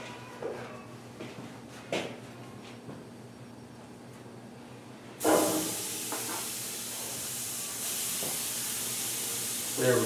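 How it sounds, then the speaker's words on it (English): Steaks are laid on a hot grill and searing. After a quiet stretch with a few faint knocks, a loud, dense hiss bursts in midway and holds steady to the end. "just let them sit there and sear for a minute on that side"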